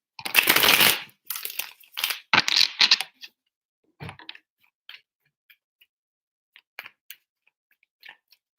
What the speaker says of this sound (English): Three shuffles for Capricorn and their person.